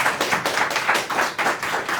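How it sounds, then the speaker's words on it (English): An audience at a summit claps for a speaker after his talk, steady many-handed applause with distinct bursts at close range, no talk over it. "All right, big round of applause for Jake."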